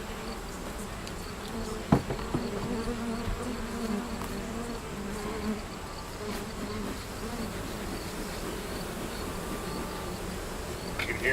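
Honeybees buzz steadily in a hive being stirred up and smoked during winter preparation, a dense, continuous drone at moderate distance with a brief knock near the start.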